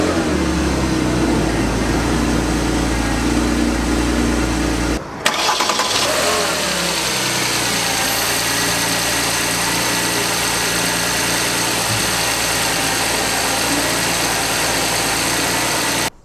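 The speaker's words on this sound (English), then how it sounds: "that was the sound of this particular Panamera's engine" A 2016 Porsche Panamera with a 3.6-liter naturally aspirated V6 idles loudly with a deep steady rumble, then cuts out briefly, restarts with a sharp cranking burst, and settles back into a smooth, close, even idle.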